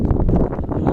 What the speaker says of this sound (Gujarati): પવન અત્યારે વધારે છે.